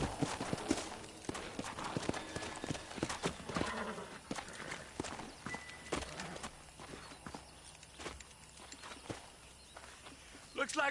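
Horse hooves clip-clop over ground with occasional snorts and whinnies, several animals moving close by at an uneven walking rhythm, with voices faintly in the background, in the video game Red Dead Redemption (2010).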